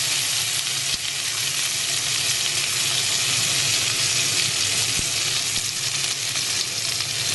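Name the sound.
food frying and sizzling in a pan over flames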